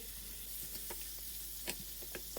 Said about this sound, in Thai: ผัดกุ้งให้สุก ผักค่อยอาศัยทีหลังนะจ๊ะ